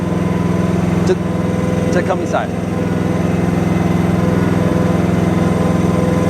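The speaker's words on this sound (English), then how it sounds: "This is the engine working." A Briggs & Stratton engine idles steadily on a HUAYEE HY14C mini excavator, a constant low throbbing drone running the whole time, with a person speaking briefly over it.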